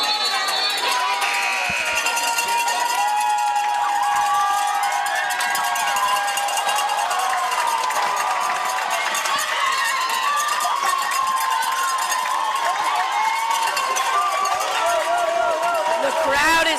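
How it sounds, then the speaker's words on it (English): A junior varsity high school basketball crowd, Xavier versus Regis, cheers and shouts continuously, with children's voices, whistles and rattling noisemakers in a loud, dense roar. "The crowd is making noise"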